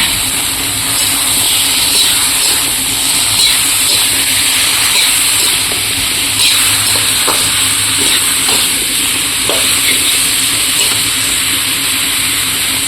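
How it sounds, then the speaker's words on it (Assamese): Pointed gourd curry ingredients with chopped tomato frying slowly in a pan over low heat, a steady close sizzle and hiss with occasional small pops, no talking. "এতিয়া এনেদৰে কম জুইত অলপ অলপ কৰি ভাজি থাকিম কেৱল"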